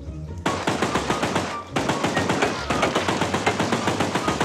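Rapid bursts of machine-gun fire in the video game Choo-Choo Charles, loud and continuous with a short pause partway through.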